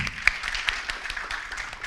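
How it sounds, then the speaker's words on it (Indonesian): Audience applause at a live-streamed campus student-orientation event, a short patter of scattered claps with one sharper clap standing out, fairly faint and distant. "Tepuk tangan boleh, silakan."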